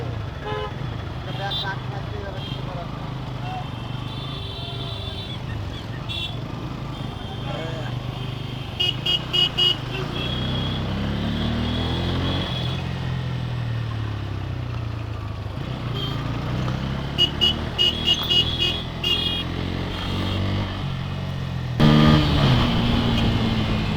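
Cars and motorbikes pass along a busy road with repeated short horn toots, engine rumble rising and falling throughout while people talk over the traffic.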